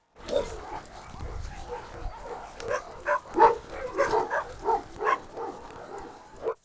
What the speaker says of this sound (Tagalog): May aso sa harap ng pinto, takbo na kayo.